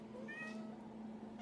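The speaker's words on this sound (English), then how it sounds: "there's a whiny cat in the background" A whiny house cat meows in the background, a short plaintive cry over a steady low household hum, fairly faint and distant.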